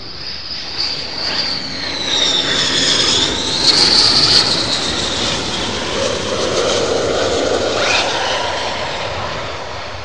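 F-15 fighter jet taking off at RAF Lakenheath, a loud roaring jet engine with a rising and falling whine as it passes, heard alone for about ten seconds.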